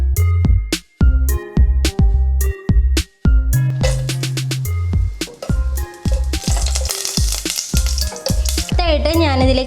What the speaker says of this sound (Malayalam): നമുക്ക് ആദ്യം നമ്മുടെ അണ്ടിപ്പരിപ്പ് മുന്തിരിയൊക്കെ നന്നായിട്ടൊന്ന് വഴറ്റിയെടുക്കാം.